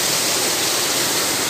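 Loud, dense, unbroken roar of a waterfall close by, a steady hissing wash of falling water with no voices.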